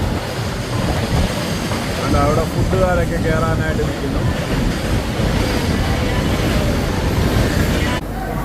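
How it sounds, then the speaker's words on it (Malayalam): A goods train rolls past at Nellore railway station as a steady, loud rumble under the chatter of a busy platform, with people speaking nearby throughout. "അപ്പുറത്തോടെ ഒരു ഗുഡ്സ് ട്രെയിൻ പോകുന്നു"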